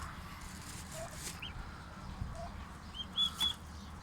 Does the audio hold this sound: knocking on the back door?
no